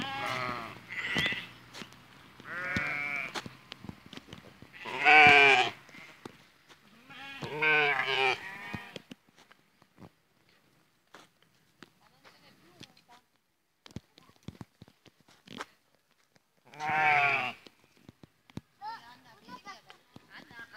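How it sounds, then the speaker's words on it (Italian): Goats on a farm that also keeps sheep, ostriches and piglets give several loud, wavering bleats in separate bursts, some overlapping, with short quiet gaps and faint rustling between them. "Abbiamo poi anche delle capre."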